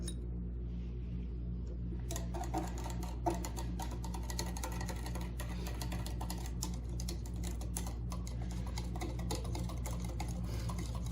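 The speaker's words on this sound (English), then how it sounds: "And give it one last stir." A spoon stirs a drink seasoned with cinnamon and nutmeg, giving rapid light clinks and taps against the glass over a constant low hum, close and steady with no talk.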